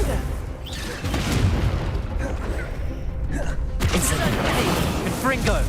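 Confringo spell blasts in the video game Hogwarts Legacy: loud booming impacts with crackling bursts over a dense game soundscape, a character shouting spell names throughout.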